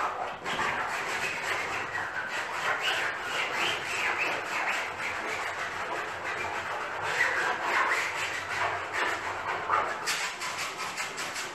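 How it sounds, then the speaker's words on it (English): Leftover paint is scraped up from a surface in continuous rasping strokes, close and fairly quiet, with no talk. "I'm going to come back in and scrape up maybe just a little bit more."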